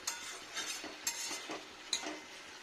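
Ridge gourd and potato with tomato frying in a pan, a utensil stirring and scraping through it in repeated strokes with a few sharper clinks, a light sizzle underneath, close and moderately quiet with no talking.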